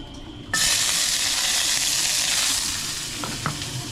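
Garlic and onion hit hot oil for adobo with a sudden loud sizzle that swells, then settles into a steady crackling hiss with a couple of light utensil taps near the end, close and without speech.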